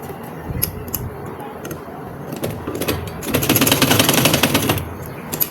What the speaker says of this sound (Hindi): अब मैं इसको यहाँ पे सिलाई लगाऊंगी